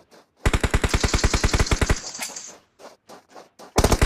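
Automatic gunfire in the PUBG Mobile video game, a loud rapid burst of evenly spaced shots lasting about a second and a half, then a few scattered single shots and another burst at the end.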